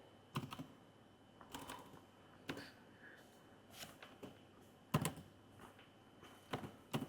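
A computer keyboard being typed on in short bursts of clicky keystrokes separated by pauses, close and fairly quiet.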